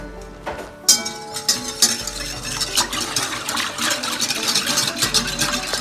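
Fresh bakery yeast stirred into milk and oil in a bowl, a steady run of scraping, clinking utensil strokes against the dish over a few seconds, close and fairly loud, with no voices.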